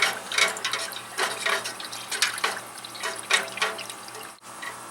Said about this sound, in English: I'm going to stir it for a little bit here and make sure it's all mixed together well.